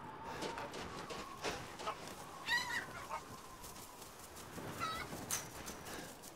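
Chickens cluck in a farm area of the video game Resident Evil Village, scattered short squawks and clucks at low level over faint background noise, with no talking.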